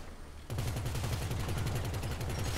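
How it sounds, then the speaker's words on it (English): Automatic gunfire in GTA V, a rapid rattling burst starting abruptly and continuing without pause for a couple of seconds, close and dense. "I'm shooting everywhere."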